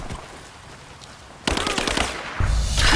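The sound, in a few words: machine gun fire in Rise of the Tomb Raider video game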